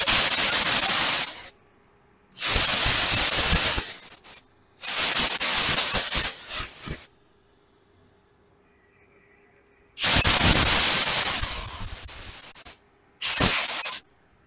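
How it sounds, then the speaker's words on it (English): Simple Green cleaner is sprayed onto a VW Beetle window regulator: five close, loud hissing bursts, each lasting one to two seconds, separated by silence. "Just want to hose this one more time. This is simple green."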